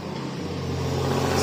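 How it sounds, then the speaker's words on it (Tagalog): A car passes on a road in a steady, rising wash of engine and tyre noise that builds slightly toward the end, heard alone. "Sasakyan."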